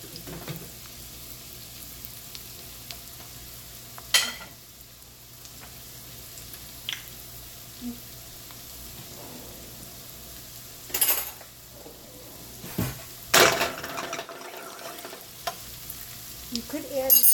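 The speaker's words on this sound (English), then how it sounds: "I'm trying to stir the pasta." Linguine pasta being stirred in a pot, giving soft intermittent scraping and clinking with a few sharper utensil knocks over a steady low kitchen hum, with no talking.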